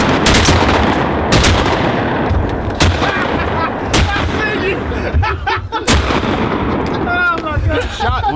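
Several loud, sharp gunshots ring out during a hunt, spaced irregularly across the stretch with faint voices and rustling between the blasts.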